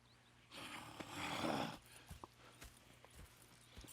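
Horses' hooves clip-clopping in Red Dead Redemption 2, a soft blowing snort followed by scattered, fairly faint hoof knocks at an irregular slow pace.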